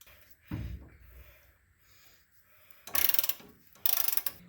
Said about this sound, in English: Using a 13/16 socket.